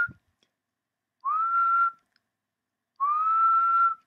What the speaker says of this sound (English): If we can whistle